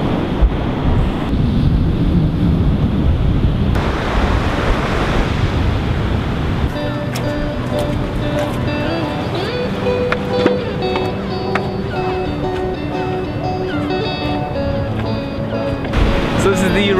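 Ocean surf rolls in at Rodanthe Pier on Cape Hatteras, a loud continuous wash of waves mixed with heavy wind buffeting the microphone, with fainter tonal sounds layered in over the later part.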